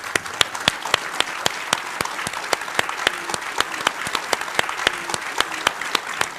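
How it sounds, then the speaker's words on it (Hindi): Studio audience applause welcoming guests to a televised political debate, with sharp, evenly spaced rhythmic claps standing out over a steady clapping bed for several seconds. "सबसे पहले तालियों के साथ स्वागत कीजिए"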